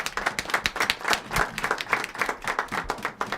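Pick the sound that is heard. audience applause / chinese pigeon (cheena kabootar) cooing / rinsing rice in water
audience applause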